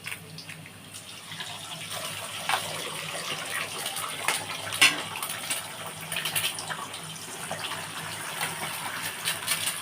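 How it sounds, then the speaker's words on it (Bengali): Two eggs cracked over fried mixed vegetables crackle and hiss in a pan for mixed chowmein, a steady close-up sizzle with scattered pops and no speech. "এই মিক্স চাউয়ের আমি দুটো ডিম ফাটিয়ে দিচ্ছি এখানে"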